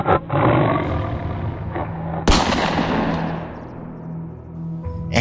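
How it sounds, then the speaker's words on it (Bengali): Tiger roar in a hunting story set in Wayanad, with gunfire: an opening roar, then a sharp loud gunshot that rings and decays, followed by more growling roaring, close and dramatic with no talk. "সে বীভৎস হুঙ্কার তুলে আমার পায়ের কাছে ঝাঁপিয়ে পড়তেই আমি এক লাফে পিছিয়ে গেলাম"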